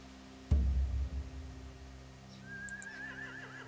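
A horse in a video game (The Walking Dead: The Final Season) neighs loudly once, a sharp whinny that fades over a second, followed by a faint high whistling tone against a quiet background hum.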